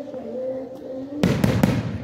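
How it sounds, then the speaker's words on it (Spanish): Fireworks rockets at a village festival honoring the Virgin of Guadalupe in Michoacán burst in a sudden loud cluster of sharp cracks and bangs after a quieter stretch of outdoor ambience. "Ya echaron cohetes"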